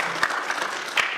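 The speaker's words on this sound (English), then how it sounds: "put a round of applause for my friend Shakir Rehmatullah" A brief burst of audience applause greets Shakir Rehmatullah, President of Flat Developments, at a reception in Markham, a dense clapping wash with a couple of sharper accents.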